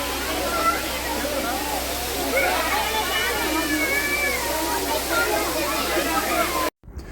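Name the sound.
waterfall at a temple near Tirupati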